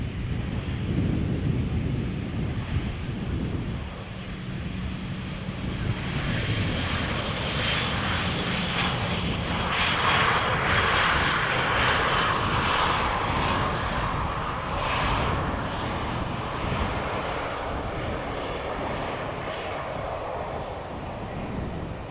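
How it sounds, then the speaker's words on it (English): A KLM Boeing 737 passenger jet arrives at Amsterdam Schiphol Airport, its engines making a broad, continuous roar that swells and fades slowly as it passes at a distance, with no voices over it. "KLM 737 flying parallel to it to the center runway."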